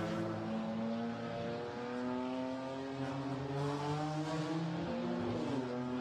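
A GT4 race car at Imola drives through the Tamburello with the rear stepping out, its engine a loud, continuous, near howl with rising and shifting pitch across several gear changes.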